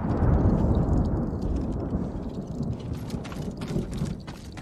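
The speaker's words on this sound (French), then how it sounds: "Quand il pleut pas, il fait orage dans ce pays" Rain and rolling thunder from a storm in the video game Ghost of Tsushima, a loud, dense low rumble with steady rainfall that fades slightly over a few seconds.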